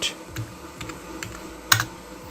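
Someone types a web address on a computer keyboard, a few distinct close key clicks and taps spaced irregularly, with one sharper keystroke near the end, otherwise quiet.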